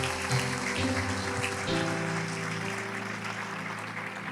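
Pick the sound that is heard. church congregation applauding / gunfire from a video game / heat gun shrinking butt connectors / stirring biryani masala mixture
church congregation applauding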